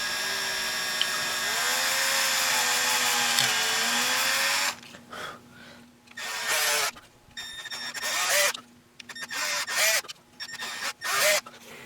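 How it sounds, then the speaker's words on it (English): A power drill whines steadily for several seconds while drilling out wood for a guitar fret inlay, then runs in a series of short, loud bursts with brief pauses between them. "we'll make my life easy and just drill out what we can"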